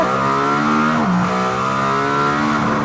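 A Mercedes-AMG ONE, a road-legal race car, pulls back onto a race track with a steady, loud engine drone that dips briefly in pitch midway and then holds firm.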